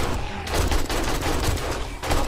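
Sustained automatic fire from an AK rifle in the video game 7 Days to Die, console version, during a horde base defense. Rapid shots blur into a dense, loud burst with a brief gap near the end.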